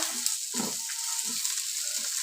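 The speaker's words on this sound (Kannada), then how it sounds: "ಜೀರಿಗೆ ಸೋಂಪು ಕಾಳುಮೆಣಸು ಗಸಗಸೆ ಇಷ್ಟನ್ನು ಹಾಕ್ಕೊಂಡು ಸ್ವಲ್ಪ ಫ್ರೈ ಮಾಡ್ಕೊಳ್ತೀನಿ" Cumin, fennel, black pepper and poppy seeds dry-frying in a pan for South Indian chicken sambar, a continuous close hiss under repeated low scraping stirs of a ladle.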